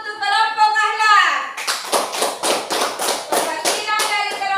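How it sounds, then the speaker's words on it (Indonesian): A classroom group claps for a team of pupils during a peer-teaching lesson; a teacher's voice comes first, then a run of distinct, rhythmic claps at a steady beat, fairly close and bright. "Tepuk tangan dulu untuk kelompok akhlak."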